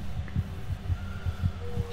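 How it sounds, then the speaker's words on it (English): In the horror video game Among the Sleep, a low, muffled heartbeat thumps steadily in a regular rhythm of soft double pulses over a faint droning hum. "I hear the heartbeat."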